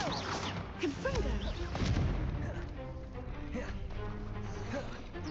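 The Confringo explosive spell is cast in the Hogwarts Legacy video game, with crackling blasts and booms set in dense, noisy battle sound, while a voice calls out spells.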